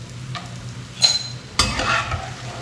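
Nimki dough crisps frying in hot oil for payesh give a soft, steady sizzle. Two sharper clinks of a utensil stirring against the pan stand out above it, close and fairly quiet.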